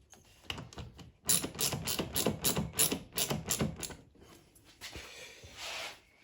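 A cheap ratchet clicks in rapid bursts of repeated pawl clicks while loosening the throttle body on a 2006-era Mazda MX-5 NC Miata, close and fairly loud, with short pauses between strokes.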